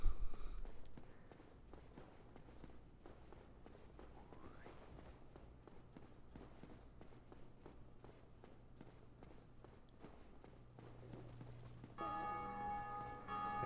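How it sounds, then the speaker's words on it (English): A bell rings faintly in Dark Souls Remastered under soft footstep-like taps and a low ambient hum. A louder tonal ringing swells in near the end. "There's that infernal ringing again."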